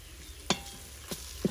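Garlic sizzles faintly in an Instant Pot with onions cooked for shiro, while a few quick scrapes of stirring strike the pot in short bursts.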